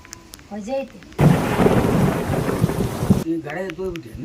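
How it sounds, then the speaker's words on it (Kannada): Heavy rain with thunder breaks in as a sudden dense roar of downpour and rumbling. It runs for about two seconds and then cuts away, with a person talking before and after. "ಮಳೆ ಸೋಂಡ್ ಬಂತಲ್ಲ ಅದಕ್ಕೆ ಎದ್ದು ಬಂದ್ ನಾನು ನೋಡ್ದೆ ಮಳೆ ಬರ್ತೈತಿ"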